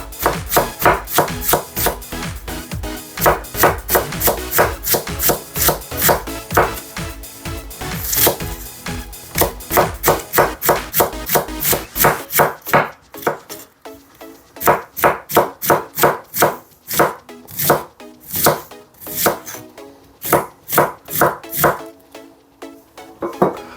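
Knife chopping cabbage on a board for pork soup, a long run of rapid, evenly spaced thuds up close, pausing briefly midway before resuming.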